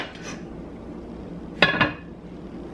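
Metal pot lid set onto a pan of cheeseburger macaroni, a couple of sharp clanks and rattles close by, then a final light clink, with quiet kitchen background.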